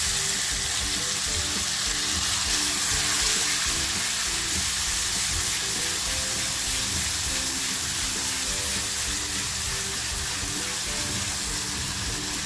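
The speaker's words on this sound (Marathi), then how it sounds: "थोडीशी तेलामध्ये हळद टाकतेय आणि जो मसाला वाटून घेतलाय तो मसाला टाकते" Turmeric and ground masala paste sizzling loudly in hot oil, a dense continuous frying hiss with faint stirring and no talk.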